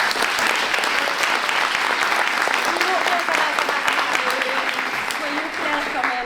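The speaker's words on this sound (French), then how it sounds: "Ils méritent vraiment qu'on les applaudisse." Audience applauding throughout a ceremony opening by Calais La Sociale, a dense, steady clapping that stays loud from start to finish, with a few voices calling out faintly underneath.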